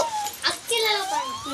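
Small puppies whimper and yelp in thin, high, wavering cries, close by, with children's voices mixed in among them.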